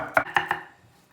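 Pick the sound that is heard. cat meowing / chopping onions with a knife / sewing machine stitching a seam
chopping onions with a knife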